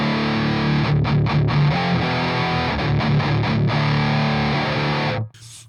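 A distorted electric guitar plays through an amp on its high gain channel with no pedal, thick chugging chords and short choked stops in a steady riff, loud and upfront before the sound cuts off.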